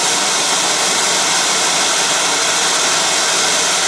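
Heat gun warming a stuck screw on a Jeep Wrangler being rebuilt, a loud, steady, close airy roar with no break through the whole stretch.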